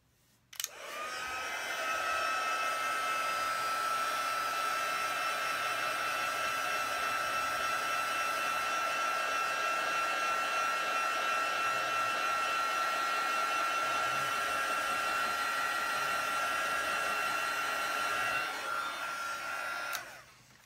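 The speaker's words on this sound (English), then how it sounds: "I'm going to take my heat gun and I'm just going to heat it just so that I know that it's dry." A heat gun blows hot air to dry a handmade card, a steady whirring hiss that starts abruptly, holds constant for nearly twenty seconds and then cuts off.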